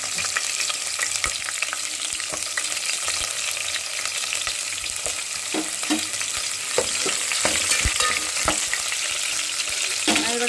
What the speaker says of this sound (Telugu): పోపు ఫ్రై అవుతున్నప్పుడే ఆనియన్స్ వేసుకున్నాం